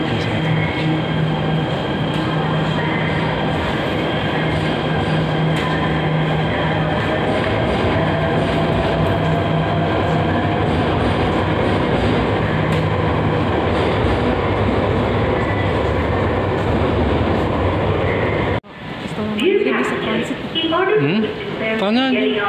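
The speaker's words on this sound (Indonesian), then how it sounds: "Ini kereta MRT." A Jakarta MRT train at underground Bundaran HI station rumbles loudly and steadily alongside the platform for a long stretch, then cuts off abruptly, leaving people chatting nearby.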